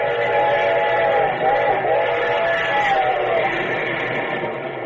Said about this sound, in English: As the Canadian Pacific train roared westward